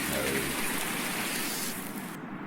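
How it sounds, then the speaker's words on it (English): Steady, dense rainfall hisses across a farm landscape in Farming Simulator 19 with Seasons, a loud continuous wash of drops with no talking over it. "Oh wow, more rain."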